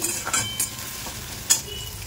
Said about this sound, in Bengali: ফোড়ন দিয়ে পেঁয়াজ দিয়ে দিয়েছি,